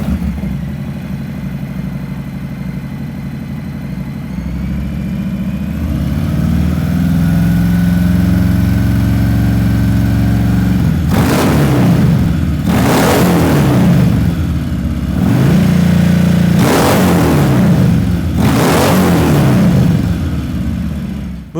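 A Harley-Davidson Milwaukee-Eight Fat Bob with aftermarket mufflers idles with a low, loping rumble, then the throttle is blipped in four sharp, loud revs that rise and fall back to idle, close up and with no talking.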